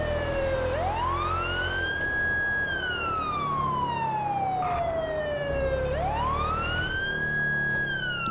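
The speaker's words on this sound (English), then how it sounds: "We'll cut the siren as we get closer here." Police car siren from GTA V with the LSPDFR mod, responding code 3 in Los Santos: loud, slow wailing sweeps that rise and fall in pitch, repeating over faint road noise with no talking.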